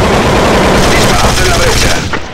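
Dense, continuous automatic gunfire from a tactical shooter video game with a breach and C4 planting, loud and sustained with overlapping bursts, tapering slightly at the end.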